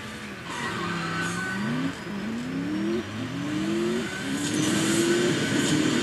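A Corvette Stingray in a racing video game revving through repeated gear changes, each pull rising in pitch then dropping, a steady loud engine note with a faint whine above it.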